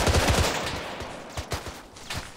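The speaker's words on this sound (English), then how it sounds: "It sounds like there's gunfire coming from inside of it." Bursts of gunfire crack out in ArmA 3, a rapid volley at the start followed by scattered single shots from inside a building, sounding somewhat distant, with no voices.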